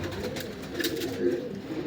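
Ferozpuri pigeons of the prized Anmol piplan breed give soft, steady cooing nearby, a low continuous murmur with a few swelling calls, heard alone without talk.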